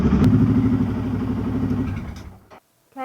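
A BMW F650 motorcycle engine idles in a home garage with a loud, close, steady thrumming, then dies away and is switched off, leaving a moment of silence before a brief clatter.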